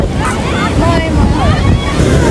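Sea surf rushing onto Manora Beach, Karachi, under steady wind buffeting, the water surging continuously and loudly close by.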